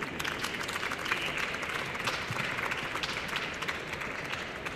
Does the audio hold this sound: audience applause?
yes